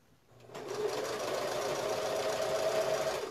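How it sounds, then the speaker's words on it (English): Sewing machine stitching down the binding on a quilted placemat, a steady motor whir starting after a brief quiet moment and running continuously at close range. "I'm going to sew it down to where the seams overlap"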